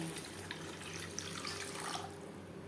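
Water pours steadily into a pan of Bengali fish curry cooked with cumin paste and green chilies, a soft, continuous splashing close by and fairly faint.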